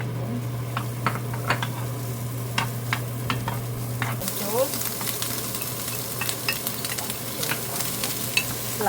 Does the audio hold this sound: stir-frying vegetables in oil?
yes